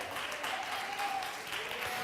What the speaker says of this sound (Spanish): Si ese aplauso es para Él.